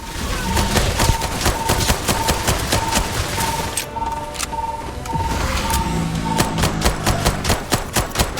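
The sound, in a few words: turret gunfire in the Starfield video game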